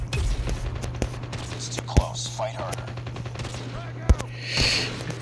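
Two sharp sniper rifle shots ring out a couple of seconds apart in Call of Duty Mobile, over a steady electronic hum with faint whispery voices and clicks.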